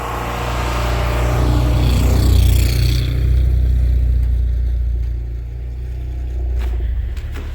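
An International Scout on tire chains pushes through deep snow at night, its engine a steady loud low rumble with rising roar and crunching texture that eases off midway, then a few sharp clanks near the end.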